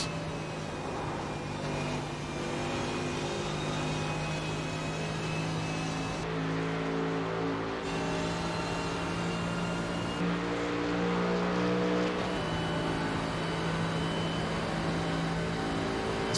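Race car engine in the iRacing sim, heard from the cockpit: a sustained loud drone rising and falling with gear shifts and revving across a long stretch, with no voices.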